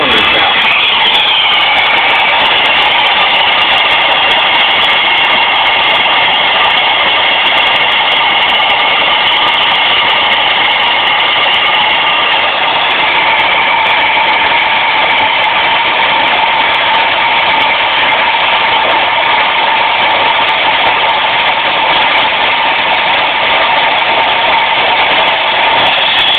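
A car engine idles after a valve cleaning, a steady loud continuous drone with a buzzy mid-range hum that holds evenly the whole time without voices.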